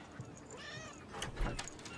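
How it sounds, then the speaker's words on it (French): A house cat meows just outside a door, a drawn-out, wavering call that is fairly faint and mixed with indoor room noise and a few light bumps. "Je crois qu'il y a votre chat qui est dehors aussi."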